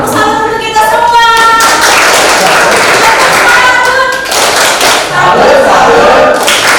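A classroom of students clapping together in a lively burst, with shouts and cheering voices mixed in over a loud, dense clatter of hands that ebbs and swells across several seconds.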